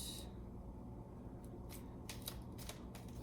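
Tarot cards are shuffled in a few quick riffling bursts, faint and close, with no talk.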